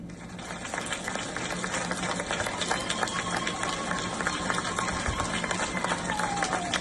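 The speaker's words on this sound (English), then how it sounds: "the G20 Sherpa could be seen applauding after the adoption of the declaration" Applause at a G20 summit after the declaration is adopted: a roomful of delegates clapping steadily, a dense even patter of many hands heard at moderate distance, with faint voices underneath.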